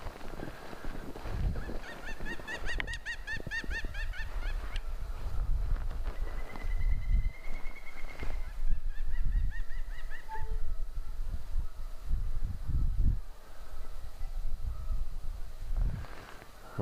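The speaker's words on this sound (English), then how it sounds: "that was an interesting bird I don't see or hear often" Wild bird calling at a riverside campground in a Minnesota state park: a run of rapid, trilling honk-like calls, then a thinner whistled call, moderately distant against steady outdoor background and low rumbles.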